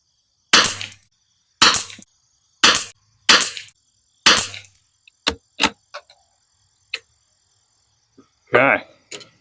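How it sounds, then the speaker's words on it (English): Rifle fitted with a heavy barrel tuner fired in five evenly spaced, loud, sharp shots, followed by scattered lighter clicks and handling noises and a final muffled thump. "let's drop down and shoot a couple more groups here"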